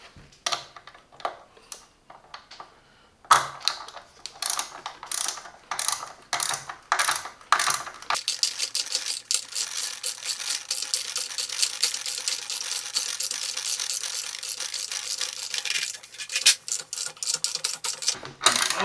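A cheap ratchet socket wrench turns a 13 mm socket in quick clicking bursts, first sparse and hesitant, then a dense continuous rattle of pawl clicks, close and fairly quiet.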